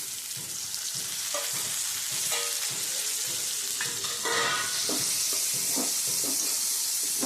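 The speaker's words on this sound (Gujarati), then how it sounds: "ટમેટાને પણ આપણે તળવા દઈશું" Tomatoes frying in oil in a pan while cooking Gujarati paneer butter masala: a steady, close sizzle with repeated scraping stirs of a spoon throughout.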